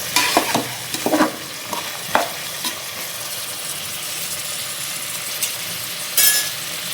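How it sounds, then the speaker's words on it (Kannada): Peas and vegetables frying in oil in a pan, giving a soft steady sizzle punctuated by several sharp scraping and stirring knocks from a utensil, close by with no talk. "ಒಂದು 10 ನಿಮಿಷ ಎಣ್ಣೆಲಿ ಚೆನ್ನಾಗಿ ಫ್ರೈ ಮಾಡ್ತೀನಿ."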